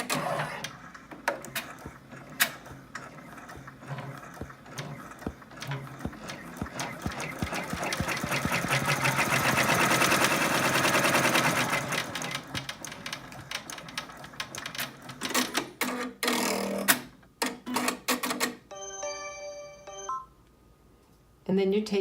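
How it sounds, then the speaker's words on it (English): An embroidery machine stitches out the first step of a halo appliqué on an in-the-hoop angel feltie, a fast continuous mechanical whirring and clatter that rises and falls, then gives way to a few short electronic beeps. "your design loaded on the machine, and the color thread that you'd like to stitch the halo out with, stitch out step 1 on the stitch map"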